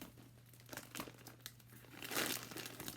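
Paper stuffing crinkles and rustles as it is pulled out of a Hermes Kelly 28-style leather handbag with gold hardware, a soft, close, continuous crumpling that swells briefly near the end.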